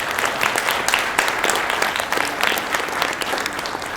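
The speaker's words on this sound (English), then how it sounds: "So, big round of applause." Loud, sustained applause from a school audience after a children's theater production of The Snow Queen, many hands clapping in a dense, continuous roar with a few louder individual claps poking through.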